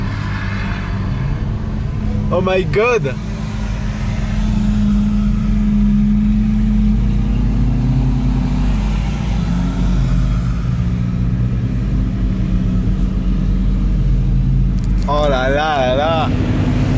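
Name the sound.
convoy of supercars driving up a mountain road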